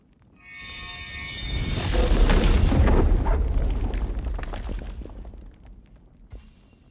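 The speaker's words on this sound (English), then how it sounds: "No mage will ever have to stare down these cannons now." A heavy booming cannon blast in The Mageseeker: A League of Legends Story, with a crackling, shattering burst that swells over a couple of seconds, then rumbles away into a fading tail.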